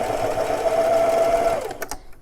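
A sewing machine back-stitches while hemming jeans with 30-weight thread, a fast, close mechanical whirr that runs steadily then stops with a few clicks at the end.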